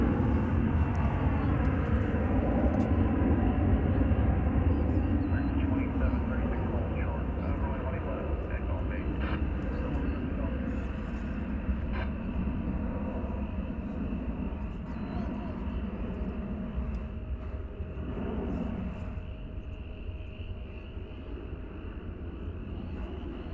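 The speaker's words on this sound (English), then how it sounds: "There you see American Flight 577. It's another Airbus A321." American Airlines Airbus A321 at DFW Airport, a broad jet roar that is loudest at first and slowly fades over about twenty seconds, with a faint voice in the background.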